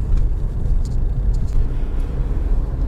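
Steady low rumble of a car's engine and road noise from inside while driving to work on a weekday, continuous and fairly loud with no talk.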